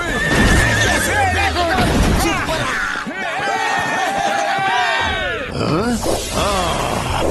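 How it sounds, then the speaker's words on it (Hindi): Cartoon horse whinnying repeatedly in loud, wavering neighs over galloping clip-clop hooves, with lively background noise and voices mixed in. "चल मेरे घोड़े"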